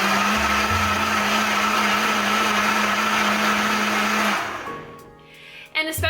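A high-speed blender whirs loudly and steadily as it purees spinach for juice, then winds down abruptly near the end, followed by a few light clatters.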